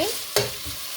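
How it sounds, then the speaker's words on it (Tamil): Onions sautéing in a pan for a spicy devilled chicken dish, a soft steady sizzle with one brief scrape of a stirring spoon, close and brief. "இப்போ வந்து வெங்காயத்தை போட்டு வதக்கு."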